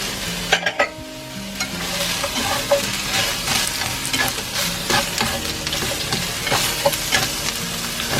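Spring onion for japchae stir-fries in a hot pan, giving a loud, continuous sizzle with frequent clattering scrapes of a utensil tossing it, close up and without speech.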